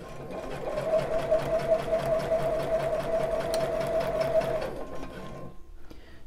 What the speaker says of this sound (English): I'm sewing up the side of the elastic that's closest to the main part of the bra.